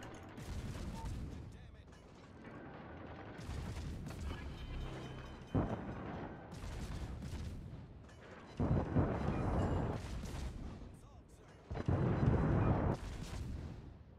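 Deepwater torpedo hits on a Yamato battleship in World of Warships: several heavy booming explosions land in a cluster, each a loud rumbling burst over continuous battle noise.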